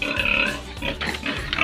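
Pigs squeal and grunt noisily at feeding time on a farm in Bohol, with loud, overlapping cries continuing throughout.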